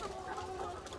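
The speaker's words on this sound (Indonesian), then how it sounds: "Ayam-ayam takut orang, nggak jadi makan nih pada ngumpet semua." Chickens in a coop cluck softly and steadily in a brief, faint burst of low clucking calls.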